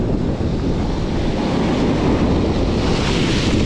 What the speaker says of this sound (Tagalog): Malaki alon, no?